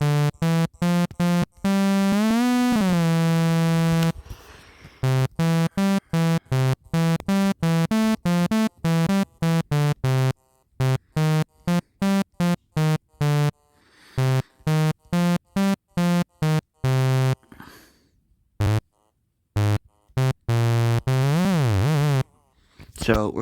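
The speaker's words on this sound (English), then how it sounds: "For us BandLab users, we have a TalkBox synth." A talk box synth in BandLab plays choppy, voice-like pitched notes in quick repeated bursts with brief gaps, some notes sliding up and down, fairly loud and alone.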